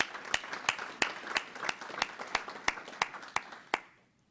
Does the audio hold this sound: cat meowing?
no